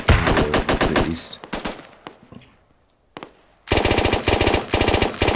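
Rapid automatic machine-gun bursts in the Squad pre-alpha military shooter, loud and close, a dense volley, a lull with a single distant report, then another sustained stretch of fire.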